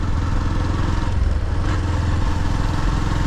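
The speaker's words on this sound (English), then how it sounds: "Okay, so it's a pretty normal bike." A BS6 motorcycle engine runs steadily with a low, even throbbing chug and mechanical clatter, loud and close, alone for the whole stretch.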